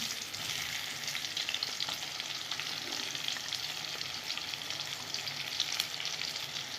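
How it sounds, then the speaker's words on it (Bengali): Onions frying in hot oil for an aar fish curry: a continuous, even crackling sizzle close to the pan, with faint stirring underneath and no talk. "বন্ধুরা আমি পেঁয়াজটা ভেজে নেব।"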